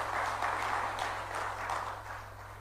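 A church congregation applauds during a sermon, a moderately faint, continuous wash of clapping over a steady low hum, fading gradually toward the end.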